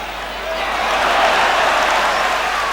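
Football crowd at the 1984 UEFA Cup Final second leg, Tottenham Hotspur against Anderlecht, giving a brief swelling cheer and roar that builds and holds across the stadium.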